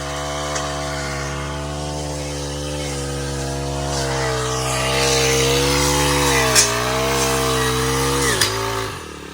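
A small motor engine of a weeding machine runs steadily with a droning buzz, its pitch wavering and dipping slightly, loud and close throughout.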